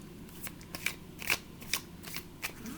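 A deck of energy oracle cards being shuffled by hand, a series of crisp riffling flicks and soft slaps in an irregular rhythm, close up and fairly quiet, with no voice over it.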